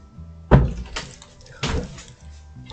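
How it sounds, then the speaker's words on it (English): A door is pushed shut indoors, giving two soft thuds about a second apart, close by and otherwise quiet. "I just gotta close the door so the cat doesn't come in."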